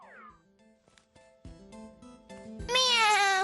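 A cartoon cat in an animated series gives a loud, drawn-out meow at the end, after some softer tones and knocks.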